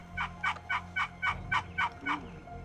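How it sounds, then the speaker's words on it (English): A wild turkey gobbler gives a rapid series of about eight rhythmic gobbling notes, moderately distant, in an otherwise quiet outdoor setting. "Hanging on for the morning ride are several roosted turkeys, including a mature gobbler."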